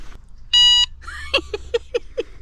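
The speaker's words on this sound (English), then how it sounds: "give us a beep of the hooter, Zoe." One short electronic horn beep from a Fiido D11 electric bike, a bright buzzing tone, followed by a few quick clicks and rattles.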